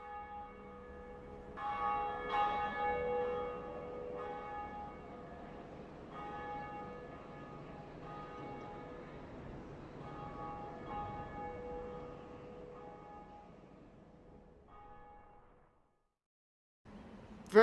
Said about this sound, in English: And we'll finally ring our first Bell of Awakening and fulfill